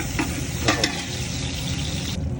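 Ginger and a little onion fry in a pan with a dense, steady sizzle, broken by a few quick spatula scrapes against the metal and no voices.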